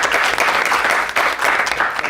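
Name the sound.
applause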